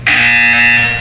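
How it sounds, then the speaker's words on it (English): A loud, steady electronic buzzer from the video game Portal 2 sounds once for about a second, harsh and sustained with a sharp onset. "You will hear a buzzer."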